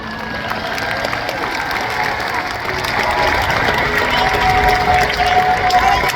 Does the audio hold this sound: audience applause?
yes